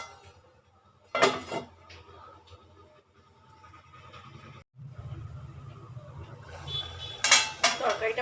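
A metal lid clatters onto a cooking pot of fish curry with potato and cauliflower, two sharp clanks a few seconds apart, with a low simmering rumble in between and faint kitchen noise.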